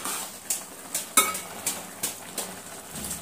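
A utensil stirs Maggi instant noodles in a cooking pot, giving a series of distinct metallic scrapes and clinks at a steady rhythm, about seven strokes, close and clear with a faint sizzle beneath.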